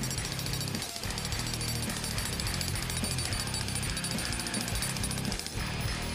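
A DEWALT D25980K pavement breaker hammers continuously at close range, a loud, dense, rapid pounding that holds steady throughout with only a momentary dip.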